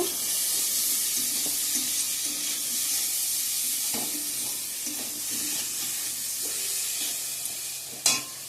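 A continuous, dense sizzle of slices frying in a pan, with occasional soft knocks and a sharper clatter just before the end.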